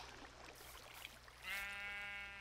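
A sheep in the video game Minecraft gives one clear, sustained bleat late in the stretch, loud and close after a quiet lead-in.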